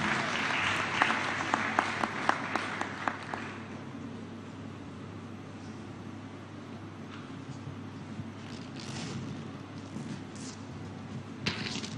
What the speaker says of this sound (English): Please don't be afraid to clap them.